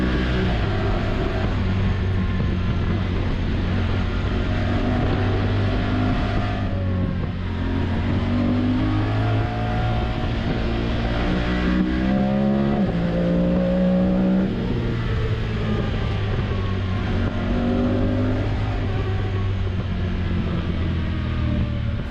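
A Honda Talon side-by-side drives along a trail, its engine droning loud and close throughout with rising and falling revs as it shifts.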